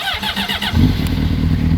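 A 2005 Honda CBR 600RR motorcycle engine idles steadily up close, a low continuous rumble that thickens partway through, with a faint higher whine above.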